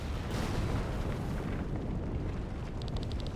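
A dense, roaring wall of rumbling blasts and crackling debris at a research facility in the video game Chained Echoes, continuous and loud, with a rapid series of short high ticks near the end.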